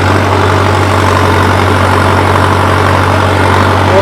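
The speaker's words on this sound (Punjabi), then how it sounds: "ਉਹ ਟਰੈਕਟਰ ਬਾਈ ਜਿਹੜਾ ਚੱਲ ਰਿਹਾ ਦੇਖ ਸਕਦੇ ਹੋ ਤੁਸੀਂ 1500 ਚੱਕਰਾਂ ਦੇ ਚੱਲ ਰਿਹਾ" A tractor pulling a cultivator through a field runs at a steady 1500 rpm, its loud, continuous low engine drone heard up close and alone, with no voices.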